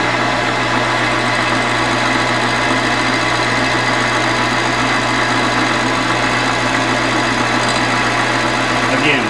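A metal lathe feeds a 15-thousandths cut across a band-saw-cut part for a drill press extension, with a loud, steady motor hum and a rhythmic low pulsing throughout.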